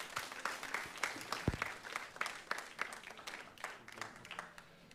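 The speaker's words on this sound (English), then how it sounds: "So let's give him a warm round of applause." A small audience at a multicultural music and dance festival claps in a warm round of applause, a dense patter of hands at moderate, slightly distant loudness that tapers off gradually.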